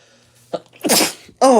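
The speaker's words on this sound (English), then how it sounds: "Oh, goodness, I had to sneeze." A single loud, close human sneeze with a quick breathy build-up and sharp burst, followed by a brief voiced sound right after.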